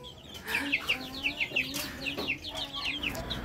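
Young roosters (stags), about a month old, clucking in quick short bursts, several repeated clucks close by with faint background noise.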